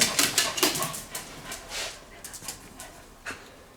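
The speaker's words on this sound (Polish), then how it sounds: "na schodach czeka mój piesek, który się ze mną bardzo stęsknił" A small dog on the stairs whimpers and pants close by, with soft breathy huffs and thin high whines in irregular bursts and no talking.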